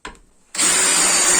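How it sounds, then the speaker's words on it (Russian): A drill bit bores into a disc of hardened metal, tougher than ordinary steel: a brief quiet start, then a loud, steady, high-pitched grinding whine that holds without break. "Возьмем с вами диск. Здесь немножко металл более каленее, чем обычный металл. Просто продемонстрирую то же самое сверло."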